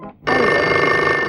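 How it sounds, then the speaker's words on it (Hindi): A telephone bell rings in an Urdu drama scene, a loud, continuous electronic trill starting abruptly after a brief quiet moment and sustained without break. "टेलीफोन।"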